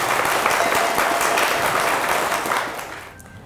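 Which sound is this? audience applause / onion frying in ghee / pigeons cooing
audience applause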